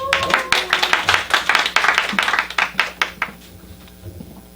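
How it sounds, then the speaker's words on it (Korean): A small seminar audience claps in a brisk, fairly close burst of distinct handclaps that thin out and stop after a few seconds. "크게 한번 박수 한번 쳐주세요."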